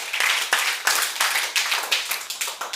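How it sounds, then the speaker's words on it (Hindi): Classroom clapping from a group of students during a quiz session, a rapid series of sharp, close claps in uneven bursts throughout. "चलिए ताली बजाइए।"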